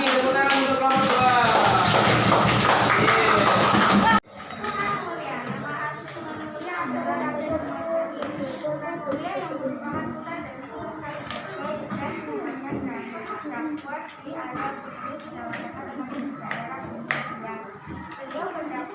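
Children in a grade 4 Islamic studies class clap for a student group, a burst of dense, loud clapping in the first few seconds, followed by a teacher and pupils talking.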